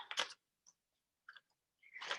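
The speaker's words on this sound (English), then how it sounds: "The more you cut, then you get a little more room and you can maybe make your cuts a little nicer" Scissors snip through paper in short, crisp crunches, a few isolated cuts separated by silence, heard up close.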